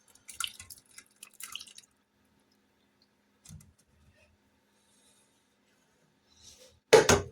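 Whey from homemade farm cheese or ricotta drips in a few faint, scattered drops while the curds strain, with quiet gaps and one louder splash near the end.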